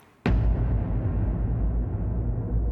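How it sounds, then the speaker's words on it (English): A cassowary, Australia's heaviest bird, lets out a deep, booming rumble that starts suddenly and holds steady and loud at very low pitch for a couple of seconds, with nothing else heard. "That's the call of a cassowary."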